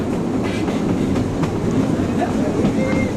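Heritage steam train of the Ardèche, hauled by Swiss-built 1903 SLM Winterthur locomotive number 403, rolling on rails with a steady loud rumble and clickety-clack of wagons throughout.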